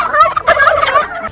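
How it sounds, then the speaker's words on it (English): Male turkeys gobble on a Central Oregon farm in one short, loud, rippling burst of throaty calls, close by and with no other sound. "They spend most of their time gobbling and showing off."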